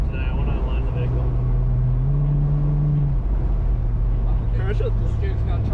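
Car engine pulling in second gear on a race track during a track day, a steady loud drone with a rising tone as it accelerates, wind and road noise constant underneath.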